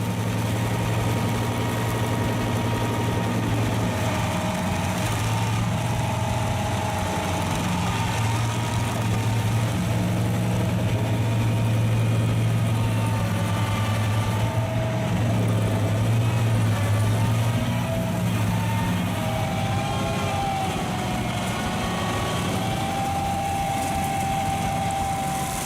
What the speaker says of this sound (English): A 25 HP tree stump grinder Loxam can handle tree stumps up to 63 centimeters high